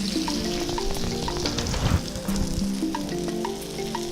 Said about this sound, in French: je vais laisser notre poisson cuire de ce côté-ci